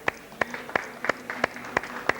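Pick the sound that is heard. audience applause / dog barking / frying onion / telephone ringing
audience applause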